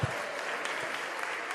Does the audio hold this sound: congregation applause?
yes